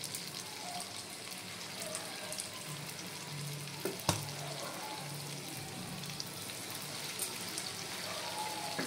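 Small lumps of banana and grated coconut fritter batter sizzle in hot oil, a steady crackling hiss with a sharp tap near the middle, fairly close and without any talk.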